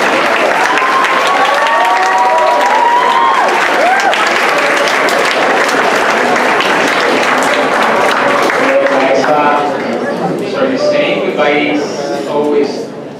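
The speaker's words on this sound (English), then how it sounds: "We'll have a huge round of applause." Applause and cheering from a school assembly audience at a secondary final assembly, loud and sustained throughout, with whoops and raised voices on top, thinning slightly toward the end.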